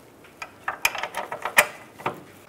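Bolts being tightened on a 2002-2009 Chevrolet Trailblazer spare tire carrier hoist assembly give a run of close, sharp metallic clicks and ratcheting ticks in an irregular rhythm, with no talking.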